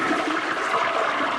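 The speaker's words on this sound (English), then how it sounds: "So in this case, Bart's interested in how the toilets flush" A cartoon toilet flushes in The Simpsons, a steady, loud, close gush of rushing water that runs without a break and with no voices over it.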